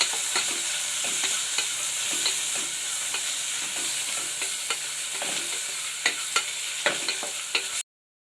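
Sliced tomatoes and onions sauté in a pan for green masala chicken biryani, giving a steady close sizzle broken by frequent spoon scrapes and clicks against the pan, with no voices, before stopping abruptly.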